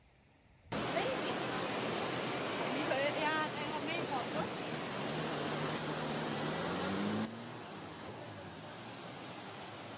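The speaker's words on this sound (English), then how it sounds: "On the river Amblève, we then visit the Cascades of Coo." Cascades of Coo, twin waterfalls on the river Amblève, give a steady broadband roar of falling water that fills the scene continuously, with a faint voice briefly audible partway through.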